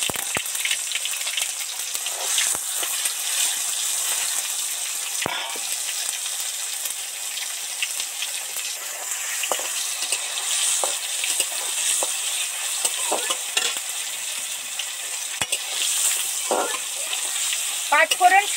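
Panch phoron, two pieces of dried red chili and three bay leaves sizzle and crackle in hot oil in a pan. The frying is steady and close, with scattered sharp pops and occasional stirring scrapes throughout.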